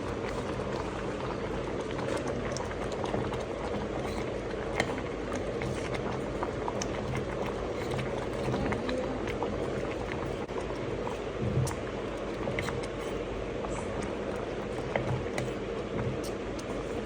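Water boiling for Maggi noodles late at night in a hostel room: a steady, dense bubbling and seething hiss that runs unbroken throughout, with no talking.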